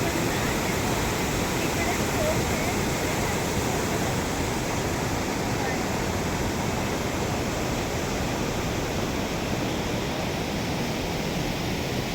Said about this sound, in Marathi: हा पुढे असा हा धबधबा खाली पडतो.